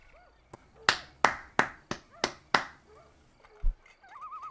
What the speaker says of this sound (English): But like a little golf clap for you.